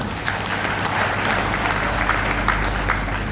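An audience at a Brahma Kumaris yoga gathering claps steadily throughout, a dense even patter of many hands at close range with no voices standing out.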